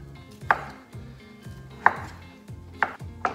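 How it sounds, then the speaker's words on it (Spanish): A knife chops pancetta on a cutting board with four sharp, separate thuds, spaced unevenly about a second apart. The chops are close and crisp, with no voices. "Y vamos a cortar."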